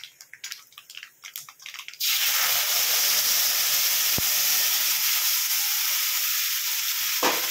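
A hot tempering of mustard seeds, urad dal, chana dal and red chillies in oil is poured into a pan of Tamil mor kali after some light clatter, bursting into a loud, continuous sizzling hiss with occasional stirring scrapes.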